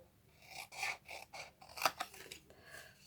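Scissors snip a paper tab off a handmade stamped gift box in a few short, quiet cutting strokes, followed by a sharper single snip, close up in a quiet room.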